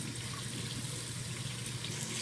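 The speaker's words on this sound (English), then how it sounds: "Okay, it's hot, so I'm going to turn it up on the cold water a little bit." A sink tap runs steadily with lukewarm water, a continuous close hiss and splash with no pauses.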